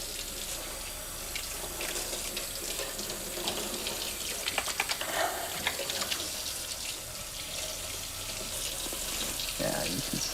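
Hot tap water runs steadily over frostbitten hands, a continuous hissing splash with small shifts as the hands move under the stream.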